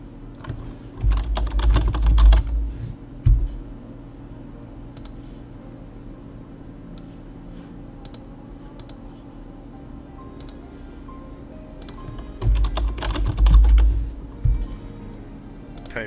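Keys clatter on a computer keyboard in two bursts of rapid typing with a lighter scattering of taps between them, heard close over a low steady hum.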